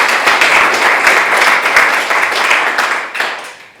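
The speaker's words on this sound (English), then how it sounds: "just one last round of applause for U.S. Congress" Loud, close applause from an audience, a dense wash of clapping that holds steady and then begins to fade at the end.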